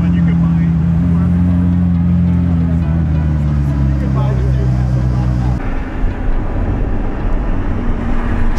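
Lamborghini Aventador SVJ supercar fitted with an aftermarket exhaust, revving loudly nearby at the Long Beach Grand Prix, a deep harmonic engine roar rising and falling, then dropping into rougher rumble, with speech mixed in.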